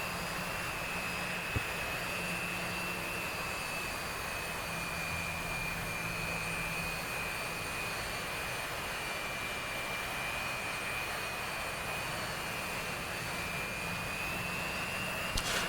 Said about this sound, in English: So Gurza leads the way as the J11s